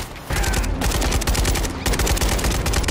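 Rapid automatic gunfire in Call of Duty: Modern Warfare III, a dense, loud burst of shots after a brief lull, then a short pause and another sustained stream of rapid fire.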